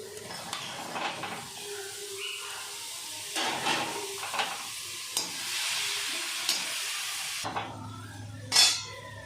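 Boiled vegetables hit a hot pan with a soft sizzle, then a spoon stirs and scrapes them around, with occasional clinks of utensil against metal.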